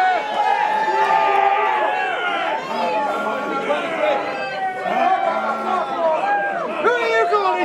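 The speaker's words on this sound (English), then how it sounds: "Give us a cheer!" Crowd at a cosplay competition cheering and whooping in response to a call, a loud mass of excited shouts with a host's voice over it.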